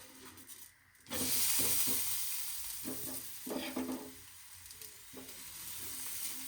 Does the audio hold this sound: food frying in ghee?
yes